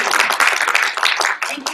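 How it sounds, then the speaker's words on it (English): An audience applauds at a live event in Napa Valley, California, a dense burst of many hands clapping close and loud. "Could you please give my good friend Randy Goodman a round of applause?"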